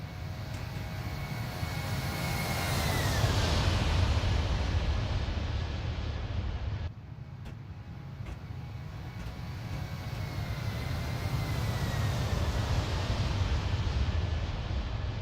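Airliner engines roar during a flyby after departure from Tampa in X-Plane 11, a loud sustained rumble with a rising whine that dips briefly midway before swelling again, no talking.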